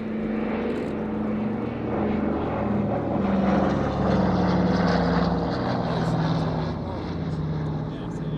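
A Douglas C-53 Skytrooper propeller transport drones past at an air show, its piston engines giving a steady, sustained hum with wavering tones, heard beneath a public-address commentator speaking throughout.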